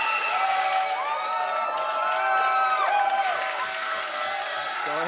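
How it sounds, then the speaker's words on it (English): A crowd cheers and whoops at a Magnus Carlsen versus Hans Niemann chess match, a steady roar of voices with tonal shouts rising and falling over about five seconds. "The crowd is going crazy."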